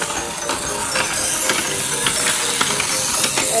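A Tomica Charge toy patrol car runs along its plastic track with a steady stream of light ratcheting clicks and a thin mechanical whir, close and fairly even throughout.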